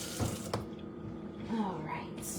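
Kitchen sink tap running at reduced pressure, producing a soft, steady close-up stream with a brief clink near the start and someone talking over it.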